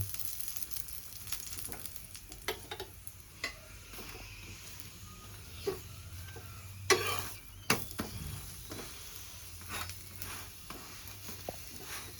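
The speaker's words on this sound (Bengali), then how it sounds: "একটা চামচের সাহায্যে এইভাবে আমি ঘি লাগিয়ে লাগিয়ে সুন্দর করে লাল করে ভেজে নেব" An aloo paratha fries in ghee on a pan, a soft continuous sizzle under occasional spoon scrapes and taps, with a couple of louder clatters midway and no speech.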